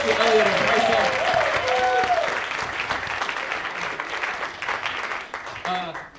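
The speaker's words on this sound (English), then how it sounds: "Let's give a round of applause to Elliot and Kaisa." An audience at an improv comedy show claps loudly for several seconds, with cheers and whoops over the applause before it tapers off.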